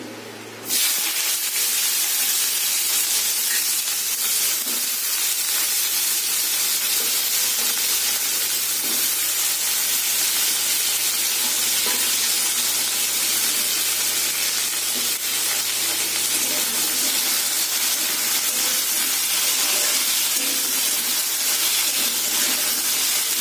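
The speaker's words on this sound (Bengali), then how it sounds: "একেবারে ভাজা হোক" Food frying in a pan in a home kitchen at night: a loud, even hiss that runs almost unbroken for over twenty seconds after a short opening sound, with no speech.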